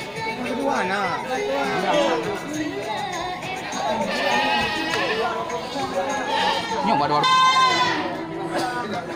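Goats and sheep bleat repeatedly at a busy livestock market pen where animals are traded, the calls rising over steady crowd chatter and people talking nearby throughout.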